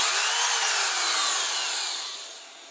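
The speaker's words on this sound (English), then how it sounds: "let's see if we can start the drill" A power drill, drawing roughly 100 amps from a Vatrer LM12100 12V 100Ah LiFePO4 battery, whirs loudly with a harsh, high-pitched buzz that gradually eases off toward the end.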